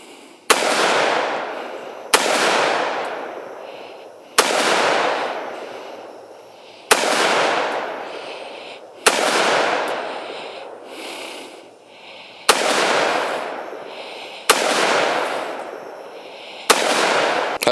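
A gun fires eight sharp, loud shots spaced about two seconds apart, each blast followed by a long ringing echo that decays before the next, with no voices.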